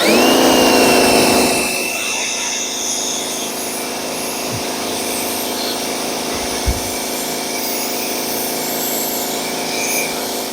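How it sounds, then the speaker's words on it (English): A pressure washer blasting dirt off the body of a 1985 Honda Accord, a steady loud hiss and spray that runs throughout, with a strong high whine at the start and a couple of short thumps later. "It's like I'm painting in reverse, going along with the pressure washer."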